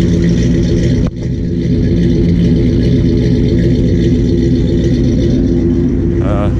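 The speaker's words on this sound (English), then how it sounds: "Have a little listen to the exhaust, which is just about acceptable when it's at idle." A 1959 Ford F100 pickup idles with a steady, loud, low exhaust rumble that dips once briefly near the start, and a faint voice is heard at the very end.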